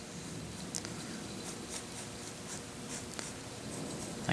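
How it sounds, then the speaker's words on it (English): A pencil drawing the shape of an eye on a woodcarving, with faint scratchy strokes and light taps close by against a quiet background, no talk. "draw the shape of my eye"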